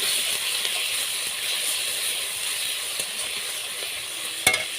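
Spices and ground tomato are stir-fried in a pan for a Bengali pointed gourd and potato curry, giving a loud, constant sizzle with faint stirring and one sharp knock of a spoon near the end.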